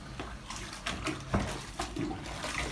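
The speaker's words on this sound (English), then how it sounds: "let me rinse my sponge here." Tap water runs in short irregular splashes as a sponge is rinsed during shower and bathtub caulking, fairly quiet and close, with a few louder sloshes and no talking.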